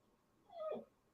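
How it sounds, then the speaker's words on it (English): A dog crying outdoors gives one short, faint whimpering whine that rises and falls in under half a second, heard from a distance. "I got a dog that is crying outside"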